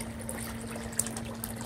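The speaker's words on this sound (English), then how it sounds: "got my water coming in the bucket here" Pumped water pouring steadily into a DIY bucket sluice used for gold prospecting, a soft continuous trickle and splash heard close and fairly quiet with a faint steady hum beneath.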